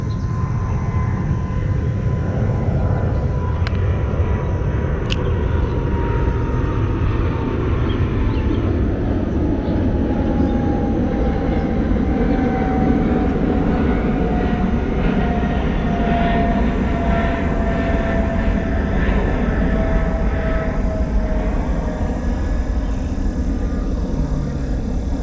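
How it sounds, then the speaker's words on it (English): A big airliner taking off, heard from a kayak on the water, its loud steady jet roar filling the whole stretch with a slowly shifting whine, no voices. "Big old plane taking off on this side."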